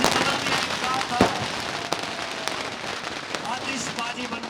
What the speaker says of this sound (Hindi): आतिशबाजी बन के छूट रहा है